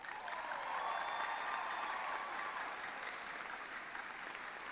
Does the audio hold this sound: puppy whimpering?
no